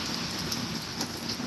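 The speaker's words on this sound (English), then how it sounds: "it's about to slack up, y'all, and I might get right back out there because I really do love the rain" Steady, dense rain falling during a rainstorm, a constant close hiss of drops on surfaces with no voices.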